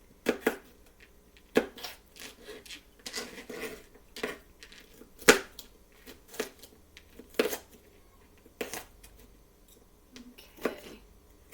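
A knife dices pepper tops on a cutting board while stuffed peppers are prepared, giving irregular sharp chopping taps at close range with short pauses between bursts and no talking.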